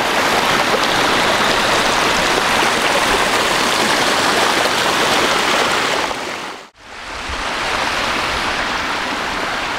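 A demonstration water garden's main waterfall, flowing at 10,000 gallons per hour, pours with a steady, loud, broadband rush that continues without pause, apart from one brief near-silent dropout toward the end.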